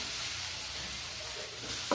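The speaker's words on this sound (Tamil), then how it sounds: "இஞ்சி பூண்டு பேஸ்ட் போட்டதுக்கு அதை மிக்ஸ் பண்ணிகிட்டே இருங்க" Ginger garlic paste sizzling in a pan with onions while being stirred for paneer gravy, a steady soft hissing fry, close but quiet, with a faint scrape at the end.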